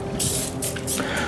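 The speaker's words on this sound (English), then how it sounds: "So what's this stuff you're pumping up and spraying on it then?" Panel wipe cleaner pumped from a spray bottle onto a Honda CB500 motorcycle tank under repair, with several short hissing bursts of mist close by at an uneven rhythm.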